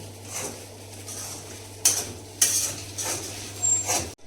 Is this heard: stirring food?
yes